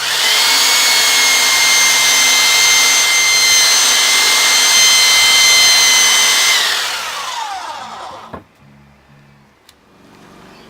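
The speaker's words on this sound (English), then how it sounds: "Doing a bit of sanding to clean off the old wood." A power sander cleaning off old wood gives a loud, steady high whine for several seconds, then spins down and fades, leaving quiet room sounds with a couple of faint knocks.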